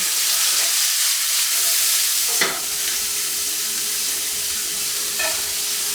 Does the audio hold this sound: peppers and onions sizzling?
yes